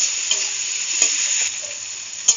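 Chopped tomatoes and spices fry in a pan for a capsicum and potato sabzi, giving a steady, close sizzle with the scrape of stirring and a few sharp clicks.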